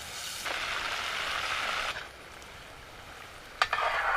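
Fish sizzles loudly in a hot pan as it is stirred and fried, with a steady frying hiss that drops away midway and then a short burst of stirring.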